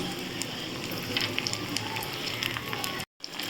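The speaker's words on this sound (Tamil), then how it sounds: "வரமிளகா சேர்த்து அதையும் பொடியட்டும் நம்ம கருகப்பில் சேர்த்துக்கலாம்" Dried red chillies and curry leaves fry in hot tempering oil, a busy close crackle and sizzle that drops out briefly near the end.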